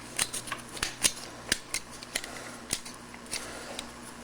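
Plastic parts of a Transformers Animated Blitzwing toy click and snap as the treads come out and the feet fold in, a string of sharp, close, irregular clicks with no talk.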